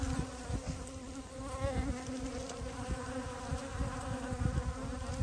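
Honey bees buzz around a capped honey bottle, trying to get the lid off, a close, faint, continuous hum with bursts of wing noise and no talking.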